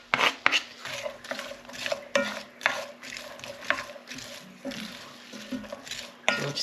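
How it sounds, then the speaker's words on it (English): Chopped onion tipped into a pan with metal scraping, clinking and rasping strokes in short uneven bursts, close and fairly quiet, with no voice. "I've chopped up the onion, and this is going to go into this pan"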